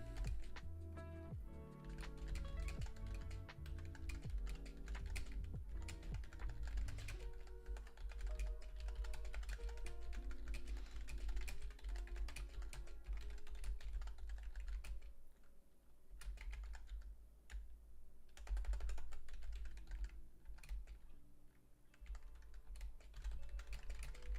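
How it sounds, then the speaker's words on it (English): Rapid typing on a computer keyboard clatters steadily throughout, close and fairly quiet, with brief pauses between bursts of keystrokes. "Sorry, just typing something."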